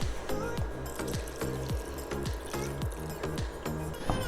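Water pours into a pot of pork adobo with soy sauce, vinegar, brown sugar and peppercorns, a close, gurgling splash with rhythmic glugs as it fills, without speech.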